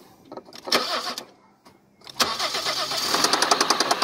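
A Fiat Marea car engine runs with an abnormal noise, turning over with a rough, uneven knocking chatter that fades and then returns louder, close by and without speech.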